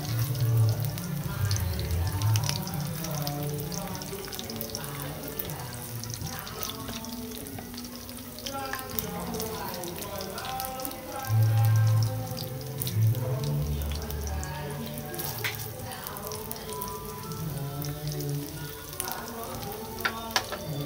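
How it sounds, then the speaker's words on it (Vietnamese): Vegetarian chicken wings fry in hot oil to turn golden before being braised with tofu and potatoes, a steady soft sizzle and crackle running throughout at close range, with no talking. "Cho nên chúng ta nên chiên cho nó hơi vàng một chút."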